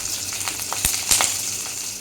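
Whole biryani spices and green chillies fry in hot oil, a close, crackling sizzle punctuated by several sharp pops and spits as the chillies hit the pan.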